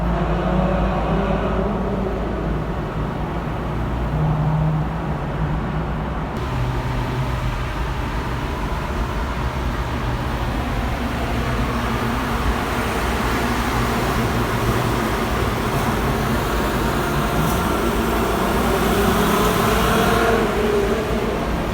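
Volkswagen Golf R32 with its VR6 engine on the move, a steady, loud interior drone of engine and road noise that holds evenly throughout with no voices.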